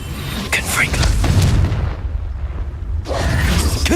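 In Hogwarts Legacy, a Confringo fire blast spell explodes with a loud, close boom and crackling burst, followed by a second blast after a brief lull, over a rumbling game background.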